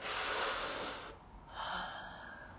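Breathing through one nostril while the other side is pressed closed during a guided breathing exercise: a close, airy rush of breath, a short pause, then a second softer breath.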